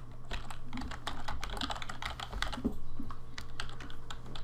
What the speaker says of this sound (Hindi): मैं इधर आपको लिख कर भी दिखा देता हूँ